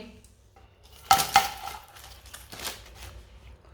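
Cooked rolls are set onto a plate, with a couple of sharp clinks of dishware and softer clatter afterward, close and fairly quiet.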